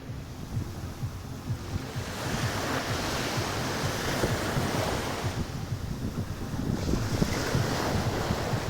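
Strong wind buffets the microphone while sea waves wash onto a beach, a continuous rushing roar with surges of surf and no voices.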